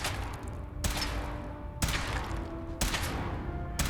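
Gunfire in the video game Fallout 4: three heavy, sharp blasts spaced about a second apart, each followed by a ringing decay, with no talking.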